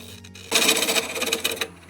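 A lathe tool cutting into spinning cedar, opening a drilled hole in a vase, gives a loud, steady rasping scrape that starts suddenly after a quiet moment, runs for over a second, then stops.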